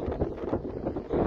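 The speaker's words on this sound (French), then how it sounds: "il y a un peu de vent, je sais pas si vous allez bien m'entendre" Outdoor wind buffeting a microphone near Carcassonne, a loud low rumbling roar with gusty surges that rise and fall over the short stretch, with no other sound standing out.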